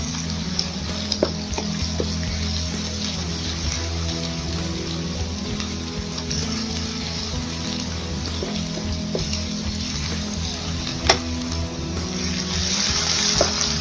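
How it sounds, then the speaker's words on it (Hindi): Onion with garlic and ginger paste sautés in a pan for a chicken and capsicum dish, giving a steady, close sizzle and crackle with occasional stirring scrapes and clinks throughout. "हल्का सा सौते कर लेंगे।"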